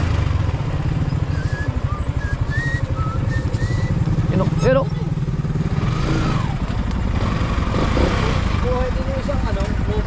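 Many motorcycles on a busy Sunday street, steady engine drone and clatter close by with a passing rev, while people talk over the traffic.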